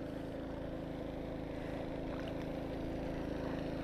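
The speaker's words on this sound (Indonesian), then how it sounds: "Oh, ada perahu datang." A motorboat passes near a kayak on open water, its engine a steady, fairly close drone that hums on without a break.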